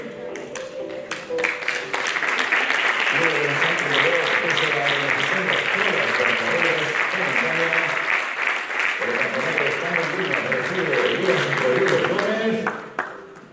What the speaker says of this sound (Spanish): Un forte aplauso para o clube Running Sport Trail.